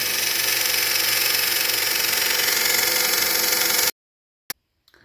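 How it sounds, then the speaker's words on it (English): A bench sander grinds down a kitchen butter knife being shaped into a casting spoon, a steady loud whirring and rasping drone that cuts off abruptly near the end, followed by a couple of faint clicks. "we're out here at the sander, so we might have to grind this off here"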